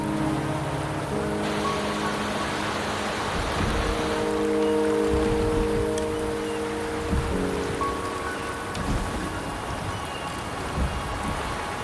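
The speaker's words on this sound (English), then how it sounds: "The rain is subsiding, and the sky will soon clear." Rain in a fantasy action video game pours as a dense, continuous wash under layered ambient music tones, with no speech and a gently swelling then easing level.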